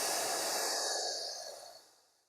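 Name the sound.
long slow exhalation in a breathing exercise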